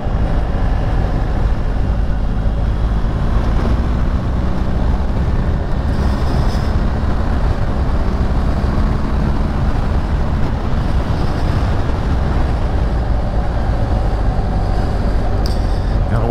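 Motorcycle riding at speed with the windshield lowered, a constant low engine drone mixed with rushing wind that persists throughout, as a storm approaches, with no talking.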